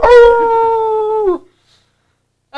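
A pet dog howls at sounds from a television, one loud, sustained, wavering howl lasting over a second that trails off into silence, with a faint noise at the end.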